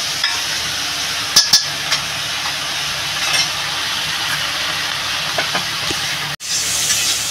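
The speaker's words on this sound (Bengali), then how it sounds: "এটা ভালো করে মশলাটা ভেজে নেব" Spice paste with tomatoes and green chillies fries in a pan with a steady soft sizzle, broken by a few sharp stirring clinks early on and a brief cut before the hiss resumes.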